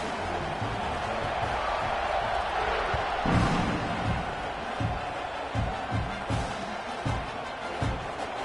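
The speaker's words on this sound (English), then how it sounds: "this crowd is buzzing after that last score" A large football stadium crowd at a college game between Texas A&M and OU buzzes steadily after a score, with a broad roar, scattered shouts and a few thumping claps or slams over the crowd noise.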